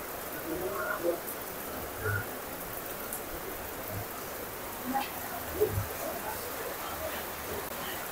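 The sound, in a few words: rain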